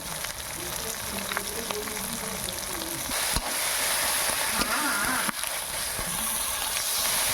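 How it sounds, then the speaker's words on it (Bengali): Ginger-cumin spice paste frying in a pan, a steady broadband sizzle throughout with occasional stirring scrapes, faint murmur of a voice in the background. "এবার মশলাটা ভালো করে কষে নেব।"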